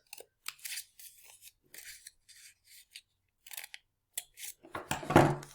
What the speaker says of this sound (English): I'm going to cut all the pieces of the X.